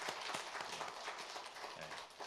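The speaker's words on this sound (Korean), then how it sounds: "우리 반주자 위해서 우리 박수하겠습니다" Church congregation applauding the accompanist during a special early-morning service, a continuous patter of many hands clapping at moderate distance, fairly quiet and even.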